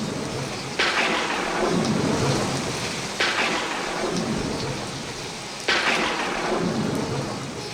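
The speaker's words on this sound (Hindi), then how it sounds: "कुछ ही देर बाद घनघोर बारिश होने लगी" A thunderstorm pours heavy rain in a dense, constant roar, with three loud thunderclaps breaking out at regular intervals over the downpour.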